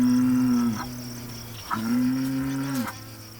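A bull lows in long, drawn-out moos, two sustained calls with a brief break between them, close and loud over faint insect chirping in the background.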